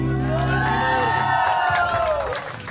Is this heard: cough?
no